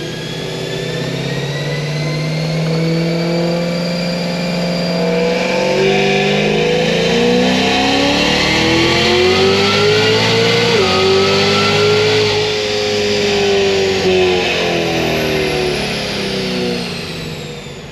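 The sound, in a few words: Cadillac CTS-V accelerating through gear shifts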